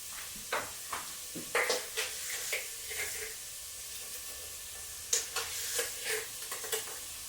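Onions sizzling and frying in a pan while being stirred, with a steady soft crackle under repeated scraping and clattering strokes of a utensil.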